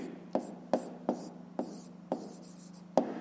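Pen or chalk strokes of handwriting during a 5th-grade maths lesson: about seven sharp taps and short scratches at uneven intervals over a steady low hum, fairly close and quiet, with no talking.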